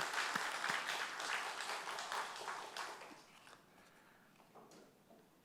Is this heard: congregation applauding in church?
yes